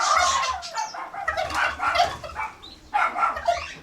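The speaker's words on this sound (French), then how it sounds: "Oh, regarde le dindon." A turkey gobbles in rapid, rattling bursts near a campsite at Aurère in the Cirque de Mafate, La Réunion, loud and close, with several repeated calls.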